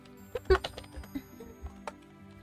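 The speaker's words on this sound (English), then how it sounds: "sorry, I'm typing." Light, scattered keystrokes on a computer keyboard: a few irregular clicks over a couple of seconds, close and fairly quiet, with faint tonal sound in the background.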